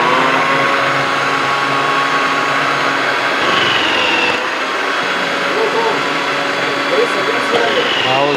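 A kitchen mixer appliance with a French fry cutting attachment slicing potatoes, a loud continuous motor whir with a steady hum that dips briefly midway as the load changes.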